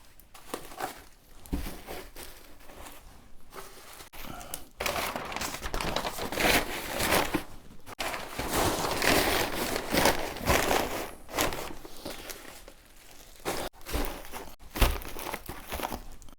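Packing paper crumpled and pressed over items in a parcel, a continuous close crinkling and rustling with irregular crunchy bursts and brief pauses, no talk.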